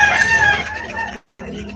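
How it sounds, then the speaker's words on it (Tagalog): A hen clucks and calls loudly and close by in a short drawn-out burst. It stops abruptly, goes silent, then gives a fainter follow-up. "nanay manok"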